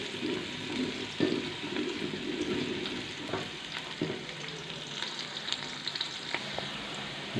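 Onions frying in a pan for chicken biryani made with chicken feet, a steady close sizzle with occasional stirring scrapes and knocks throughout, no talking.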